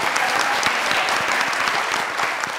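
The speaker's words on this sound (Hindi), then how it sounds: "भाई के लिए तालियां।" Studio audience of a Pakistani comedy talk show breaks into steady, dense clapping that holds evenly for the full stretch, close and loud with no talk over it.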